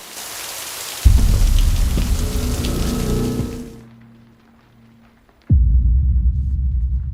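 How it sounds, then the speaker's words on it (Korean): Steady rain pours loudly on a quiet petrol station, fades into near silence for a moment, then abruptly returns at full strength. "빗소리만 들리는 고요한 주유소"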